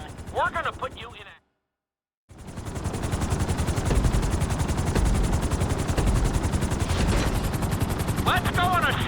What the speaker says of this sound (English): we'll see how well you handle the chopper